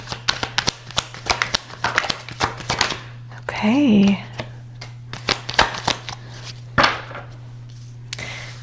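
Brisk, uneven flurries of tarot card shuffling, crisp slaps and riffles close to the mic, with a brief spoken word partway through.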